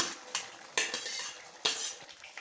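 A spoon stirs sautéed okra into a pot of simmering tamarind curry, making three distinct metallic clanks against the pot with softer scraping between them, close and fairly quiet, with no talking.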